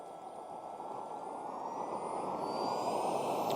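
A Kingtech K45G4 model turbine engine lighting up on a test bench, giving a loud, steady roaring rush that builds slightly, with a faint high whine rising over it.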